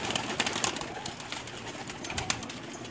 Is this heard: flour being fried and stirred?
no